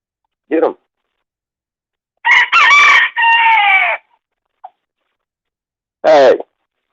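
Chickens cluck in short bursts while a rooster crows loudly and close, with several separate calls spread over a few seconds and quiet gaps between them.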